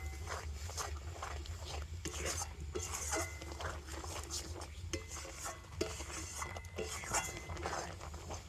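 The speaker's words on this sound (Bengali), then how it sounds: "তো সম্পূর্ণ চালটা দিয়ে দিয়েছি, আর এবারে সব কিছু ভালো করে এইভাবে মিশিয়ে নেব।" Raw rice is stirred and mixed in a pot for a sweet, with repeated scraping and gritty rubbing of a utensil against the pot over a steady low hum.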